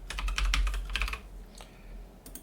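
A short burst of quick clicking keystrokes on a computer keyboard, close and moderately loud, as a password is typed during a NixOS installation, then one or two isolated key taps after a pause.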